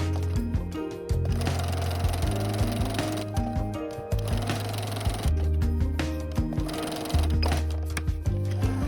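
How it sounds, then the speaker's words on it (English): Sewing machine stitching around the edges of small fabric bow pieces for a keychain, close bursts of rapid needle hum broken by short pauses and clicks as the fabric is turned. "Sew all the way around the edges, leaving about a 1 inch opening at the bottom."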